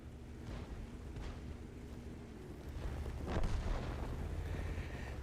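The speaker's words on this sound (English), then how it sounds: "And our IKV has just exploded." An IKV tank explodes in World of Tanks, a deep, rumbling blast that swells midway through over low battlefield noise and wind-like rushing, fairly quiet and without talk.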